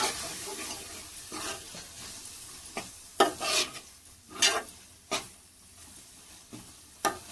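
Coconut masala paste fries in a pan for mushroom curry, a low sizzle broken by repeated bursts of spatula stirring and scraping at irregular intervals, close and moderately loud.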